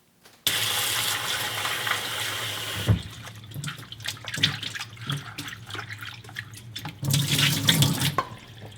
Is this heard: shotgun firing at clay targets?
no